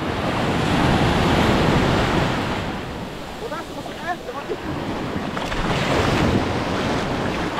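Strong ocean waves roar and wash continuously close by, with heavy wind buffeting the microphone and faint voices beneath the surf.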